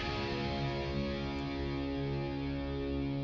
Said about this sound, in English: So this is just a distorted guitar sound.